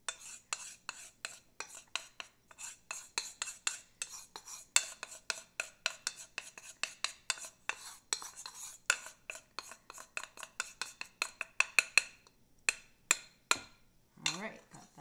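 A spoon stirs a homemade deodorant mixture in a pot over hot, non-boiling water, making a close, steady run of quick scraping clinks against the metal that grow sharper and more spaced near the end, with no voices.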